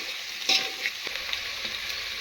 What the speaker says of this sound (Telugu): బాగా నూనెలో కొంచెం ఎర్రబడేలాగా ఉల్లిపాయ ముక్కలు వేయించుకోవాలి